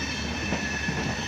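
Trains stand at a platform of New Delhi railway station, which has 16 platforms. A steady, loud rumble of rail noise fills the station with no pauses.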